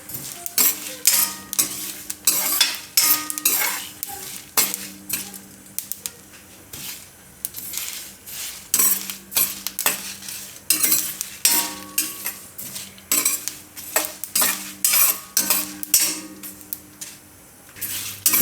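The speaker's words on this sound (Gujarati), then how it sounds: "તો આ બધું થોડીક વાર શેકી લેવું." Potatoes with sesame seeds and garlic sauté in a pan while a spoon stirs and scrapes, giving rapid, loud clinks and scrapes in an irregular rhythm over a soft sizzle, close up and with no voices.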